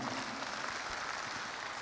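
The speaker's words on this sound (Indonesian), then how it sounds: "Tepuk tangan dulu buat kita semua" An audience at a business seminar applauds together, a dense, steady clapping that fills the room throughout without a break.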